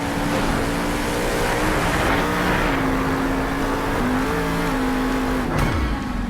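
A monster truck engine roars loudly and steadily as it spins through donuts, the revs rising and falling in long sustained sweeps with no pauses.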